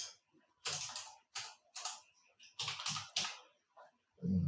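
Typing on a computer keyboard: several quick bursts of close, crisp key clicks separated by short pauses, with a brief low thump at the end.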